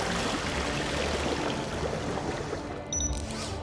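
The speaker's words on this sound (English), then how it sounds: "Commencing spray. Please stand back." Water sprays steadily and loudly from a machine in the Beyond a Steel Sky video game, a dense continuous hiss that runs throughout and ends with a short electronic tone near the close.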